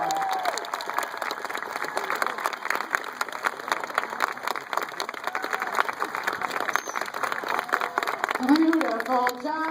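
An audience at a New York aquarium sea lion show claps and cheers steadily, with a dense crowd wash of applause over about ten seconds and a presenter's voice rising briefly near the end.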